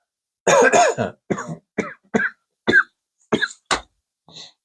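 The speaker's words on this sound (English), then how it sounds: "Oh, already coughing." A person coughs repeatedly, a burst of harsh close coughs followed by several spaced single coughs and a softer final one.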